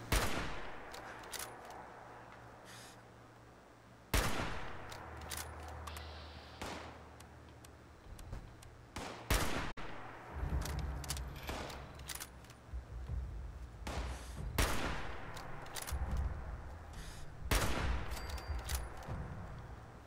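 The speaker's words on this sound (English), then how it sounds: "Get your damn pipe rifle out of here. You're shooting at me." Pipe rifle gunfire in the video game Fallout 76, scattered sharp shots and short bursts over several seconds, some isolated and some in quick clusters, loud against a quiet background.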